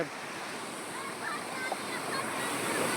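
Rain-swollen floodwater rises and rushes past on a farm, a steady loud churning wash close by with faint voices behind it.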